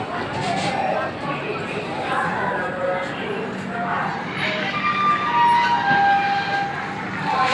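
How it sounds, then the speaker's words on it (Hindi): A passenger train pulls out of Darbhanga station, a dense rumble of rolling cars and station noise running steadily throughout, with a bright tonal squeal or whistle near the end and a voice speaking over it. "और ये ट्रेन खुल चुकी है"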